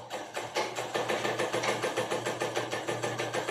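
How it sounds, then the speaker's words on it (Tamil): A sewing machine stitching a straight, strong seam on cloth, a fast, steady rhythmic clatter of the needle mechanism running continuously and close up without pause. "ஸ்ட்ராங் தையல் போடுறோம் ஸ்ட்ரைட்டாக தைக்கிறோம்"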